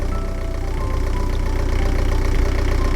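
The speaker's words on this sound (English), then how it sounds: "Even with engine sounds put in with audio" A boat engine in the Planet Zoo video game hums at a steady idle, a low continuous drone with a faint regular knock that holds level throughout, unbroken by any voices.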